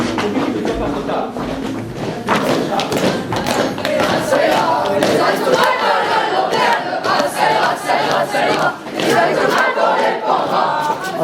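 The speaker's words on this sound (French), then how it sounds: "Et sentant la rumeur de la foule qui arrive." An approaching rioting crowd roars and shouts in many overlapping voices, loud and agitated, with scattered thuds and bursts of yelling that rise and fall across the stretch.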